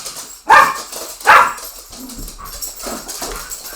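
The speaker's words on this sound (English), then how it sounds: "I'm sorry about the dogs, everybody." Two loud, sharp dog barks close by, spaced under a second apart, followed by quieter whimpering and shuffling noises.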